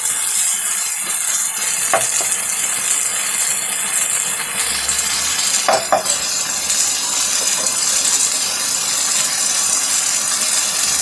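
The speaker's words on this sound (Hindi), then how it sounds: "एक से 2 मिनट और भूनेंगे मसाले को हम।" Masala frying for Sindhi-style aloo matar, a steady close sizzle that runs without a break, with a couple of brief clinks from stirring and no voices.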